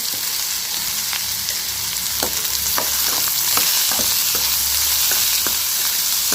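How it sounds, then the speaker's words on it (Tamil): Carrots, potatoes and onions sautéing in a pan for a Tamil-style poriyal give a steady close sizzle throughout, punctuated by light scraping clicks from stirring, with no voices. "இதெல்லாம் நல்லா சேர்த்து எல்லாத்தையும் நல்லா வதக்கிக்கலாம்."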